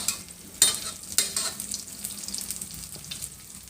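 Wild pak wan vegetable omelette frying in hot oil, a loud steady close sizzle with sharper spatters and stirring scrapes near the start.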